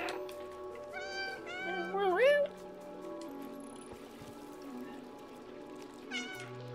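The cat in the video game Stray meows several times, with a long drawn-out cry near the middle and another meow near the end, over a soft ambient background.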